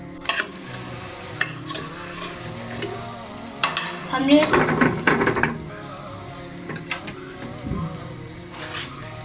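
A cheese omelette fries in a pan with a steady sizzle, broken by scraping and utensil clatter as it is turned, while a voice talks briefly in the middle.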